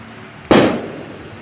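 A single sharp firecracker blast goes off outside a house, a loud sudden bang followed by a short fading rumble, with no one talking.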